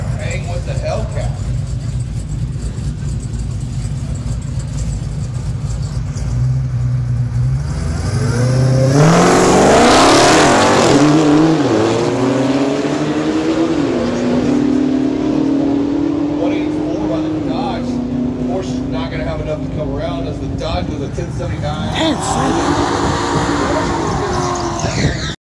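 Dodge Hellcat on a drag strip at a Texas Speed Syndicate Quick 30 event, engine roaring up through the gears in a long loud rising pass, then fading, with crowd noise throughout.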